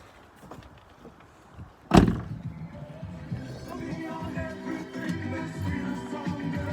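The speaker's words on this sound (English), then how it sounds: "I've got to shut the door to sort this out." A new van's door is pulled shut with a single loud thud, followed by a muffled rattle and then steady background noise inside the vehicle.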